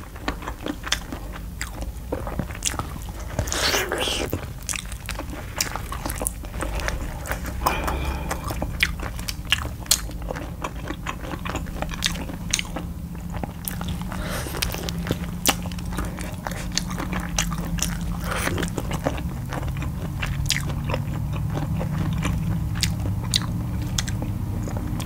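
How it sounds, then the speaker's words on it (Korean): Close, steady biting and wet chewing of Korean pork trotters (jokbal) with bone, crunches and tearing bites recurring throughout, with no talk. "저는 개인적으로 순살보다 뼈 있는 부분을 좋아해요. 뜯어먹는 게 제일 맛있죠."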